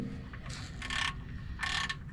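Oil filter being hand-tightened on a Chevrolet Silverado during routine maintenance: two bursts of ratcheting, clicking mechanical noise over a steady low hum, close and moderately loud, with no talking.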